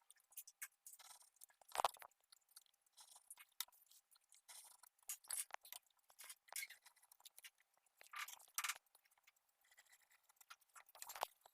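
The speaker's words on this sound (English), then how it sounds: "We will cut these 7 figures using scissors" Scissors snip through paper while tangram pieces are cut out, giving quiet, irregular crisp cuts and rustles spread across the stretch, with one sharper snip near the start.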